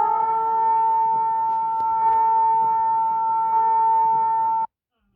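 Bahrain and Qatar emergency alert siren: a loud, steady electronic tone held without a break for about four and a half seconds, then cutting off abruptly into silence.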